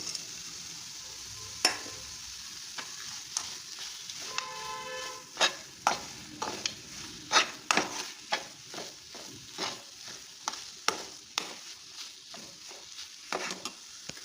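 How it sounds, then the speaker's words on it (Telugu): Carrot halwa with milk powder and dry fruits being stirred in a pan, a long run of close, irregular scraping and clinking strokes that speed up into a quick rhythm, with soft background hiss and no talking. "మిల్క్ పౌడర్ ఉంది, ఇది కలుపుకుంటున్నాను."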